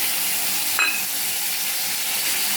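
Tomatoes fry in a pan for mint chutney, making a steady, fairly loud sizzling hiss with one short scrape of stirring early on.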